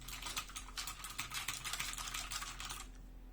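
Rapid, even typing on a new computer keyboard with a coiled cable, the key clicks close and clear against a quiet room with a faint low hum, ending just before the end.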